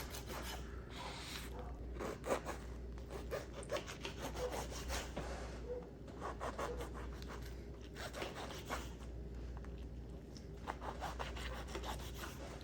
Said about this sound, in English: Go ahead and cut this one right here.